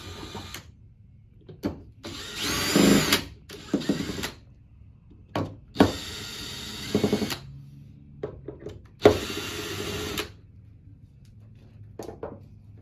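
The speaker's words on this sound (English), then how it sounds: "Use a drill screwdriver. Take them out." Short bursts of a drill screwdriver whirring as it removes screws from a Hydro LM pump, several separate runs of a second or so, with quiet handling noises between them, close by.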